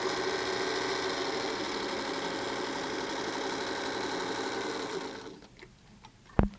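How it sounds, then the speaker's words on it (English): An old sewing machine stitches fabric at a fast, steady mechanical clatter, then stops. A few quiet clicks follow and one sharp knock comes near the end. "I like the sound of this old sewing machine."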